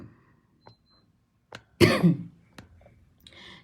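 A single harsh cough in a quiet room, surrounded by a few faint clicks and small rustles.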